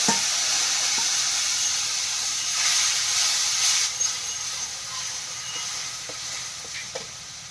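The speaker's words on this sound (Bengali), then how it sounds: "এবার কড়াই দিয়ে দিচ্ছি মিক্সচার করে মশলা, পেঁয়াজ, রসুন, আদা, কাঁচা লঙ্কার সাথে।" A spice mixture of onion, garlic, ginger and green chilli sizzles steadily in a wok, a continuous hiss with occasional faint clinks and stirring taps, no talking.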